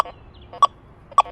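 An XP Deus 2 metal detector sounding over iron gives two short, bright chirps about half a second apart, close and clear above a faint background hiss.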